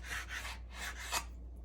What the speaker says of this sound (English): you're going to cut it on a bias, on an angle, and you're going to cut it about 1/4 inch thick